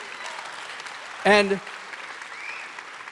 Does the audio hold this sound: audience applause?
yes